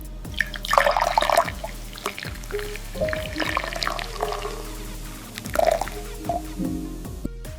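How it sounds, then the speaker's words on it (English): Fresh persimmon juice poured in a juice factory, a steady liquid splash and trickle that rises and falls over several seconds with some drips, close and fairly loud against a low machine hum. "Fresh pour."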